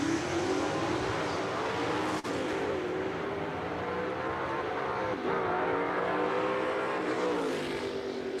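A Ford Mustang super stock drag car launches down the strip at Jackson Dragway, its engine a steady, loud, sustained roar with a rising pitch and brief shift breaks, heard alone without talk.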